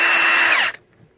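A Milwaukee M18 Fuel Gen 2 1/2-inch high torque impact wrench, model 2767-20, runs in one loud, steady high-pitched burst for under a second, then cuts off abruptly into near silence.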